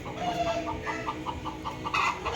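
A hen clucks in a rapid, evenly spaced series inside a coop after laying eggs, heard at moderate distance, the rhythmic calls running steadily and rising into a louder squawk at the end.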